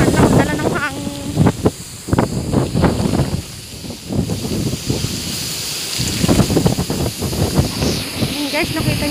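Strong typhoon wind under signal #4 in Silang, Cavite buffets the microphone in loud, uneven gusts and roaring rushes while someone talks excitedly through it.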